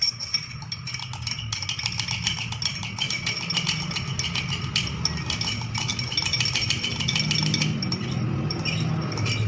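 Crackers are stirred in vinegar inside a glass during a lab test, producing a run of light, rapid clinks and scrapes against the glass, fairly quiet and close, with no talk.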